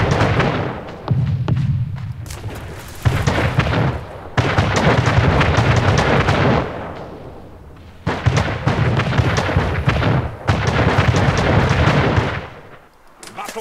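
Naval cannon fire in a ship battle in Anno 1800, a steady barrage of heavy booms and thuds rolling in repeated bursts, loud and dense with brief lulls between volleys.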